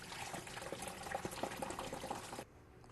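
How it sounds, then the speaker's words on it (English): Sanitizer drains out of a SaniServ DF 200 / Model 407 ice cream machine as a steady gushing, splashing flow of liquid, close and fairly loud, then cuts off abruptly near the end, leaving quiet. "I'm going to drain out the sanitizer."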